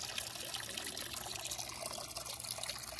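A spring in the woods trickles steadily, a soft continuous burble of running water, faint and close, with no voices.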